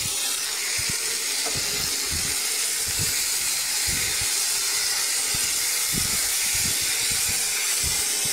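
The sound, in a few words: frying boiled chickpeas and pumpkin with mustard seed tempering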